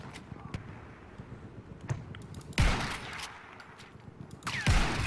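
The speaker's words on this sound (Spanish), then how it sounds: "¿De dónde me están disparando?" Gunfire in the Battlefield 1 beta: sparse distant shots crackle through the first half, then two loud, close rifle blasts with booming low tails land about two seconds apart, with a player speaking faintly in between.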